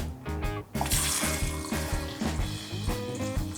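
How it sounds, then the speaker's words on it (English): Cold tap water runs over cooked rice noodles in a kitchen sink, a steady close splashing rush that continues under background music throughout. "And run it through some cold water."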